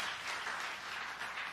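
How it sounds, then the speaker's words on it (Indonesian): A church congregation claps warmly in praise, a dense, even patter of hands filling the room at a moderate, fairly distant level for a brief moment, with no talking over it. "Tepuk tangan yang meriah bagi Tuhan Yesus."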